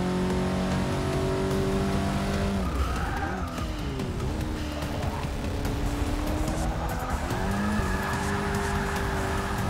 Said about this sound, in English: Ooh, we are drifting around that corner.